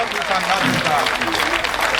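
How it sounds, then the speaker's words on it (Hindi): Audience applause at a Hindi kavi sammelan poetry gathering: a dense, steady wash of many hands clapping throughout, fairly loud, with voices mixed in underneath. "अगर आप सुनना चाहते हैं तो तालियां बजा के मुझे बता दीजिए"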